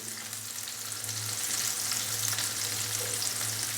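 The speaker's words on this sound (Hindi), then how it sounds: "मिर्चों को हल्का सा फ्राई करेंगे" Finely chopped red chillies fry in a pan with a steady, close sizzle and a faint low hum beneath it. No stirring or voices break the even hiss.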